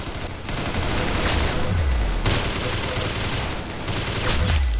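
Rapid gunfire bursts in the video game Arsenal, a dense fusillade of shots with a few heavier low thumps, loud and continuous over several seconds.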